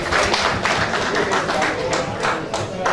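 Sustained crowd applause from an audience honouring a painter at the Ô Pinceaux d'Afrique art gala, a dense even wash of many hands clapping throughout, fairly close and loud.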